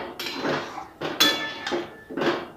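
A spoon scrapes and knocks around a pan of egg curry in a home kitchen, four separate stirring strokes with metallic clinks and scraping, close and moderately quiet.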